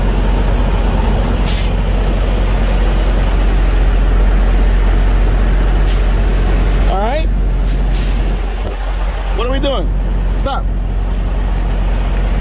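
A truck with trailer backs slowly into a parking space at a truck stop, a steady low diesel rumble throughout with a few short air-brake hisses and squeals near the end, while people talk over it.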